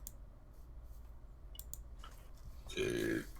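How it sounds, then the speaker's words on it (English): A single loud, drawn-out burp erupts near the end after a few faint clicks and quiet background noise. "That was a burp"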